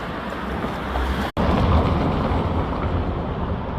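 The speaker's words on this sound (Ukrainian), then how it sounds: "Трамвай йде." A steady, loud rumble of a tram passing along Ivan Franko Street in Lviv, with broad roaring noise and a brief dropout partway through.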